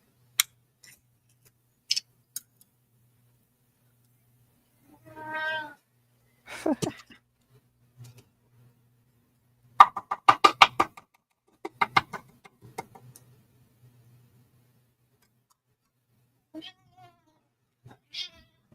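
A cat meows several times with quiet gaps between calls, close and clear, with a few faint clicks in an otherwise silent room.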